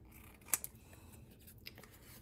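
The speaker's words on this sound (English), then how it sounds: "And then I need to do a little bit of trimming here." Scissors trimming paper for a scrapbook page give a couple of quiet, crisp snips close by, then one fainter cut, set against a soft, still room.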